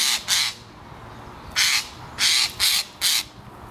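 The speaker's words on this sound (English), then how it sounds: "Jays can make a lot of noises, but one of their main calls sounds like this." Five harsh, rasping screeches from a Eurasian jay, loud and close, two quick ones, then a pause, then three more in quick succession.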